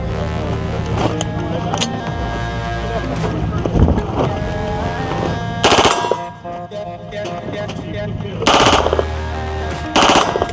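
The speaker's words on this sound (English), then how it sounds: "So we'll go through some rounds for you." A Foxtrot blowback 9mm firearm fires rapid bursts at the SHOT Show 2023 range. Loud repeated volleys ring out with brief gaps between them over a windy outdoor background.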